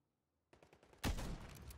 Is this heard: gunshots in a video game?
yes